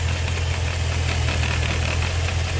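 A Chrysler 300C SRT Design engine idles close by with a steady low hum, overlaid by a continuous buzzing rattle from a loose vibrating part under the hood.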